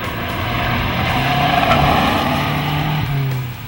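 A 2010 Mazdaspeed 3 hot lapping at Mosport Park's driver development track, its engine droning loud and close with steady revving and shifts in pitch as it runs, no voices over it.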